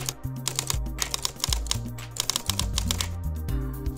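Freehand typing on a computer keyboard while composing an email message, a steady run of close, crisp key clicks with uneven rhythm and a few heavier strokes, alone without any voice.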